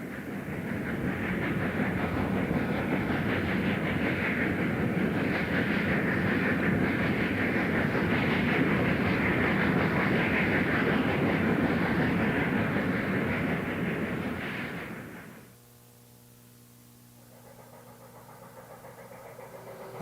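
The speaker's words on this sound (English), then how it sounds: "Class I-8B 280 number 1503 crosses another Pennsy branch at Sup Lee." Pennsylvania Railroad Class I-8B 2-8-0 steam locomotive crossing another branch line, a loud steady rumble of train and cars rolling past for about fifteen seconds before cutting off, leaving quieter background.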